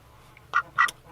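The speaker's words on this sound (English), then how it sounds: "It was a white pecking duck." A white Pekin duck quacks twice in quick succession, close and clear, against a quiet farmyard background.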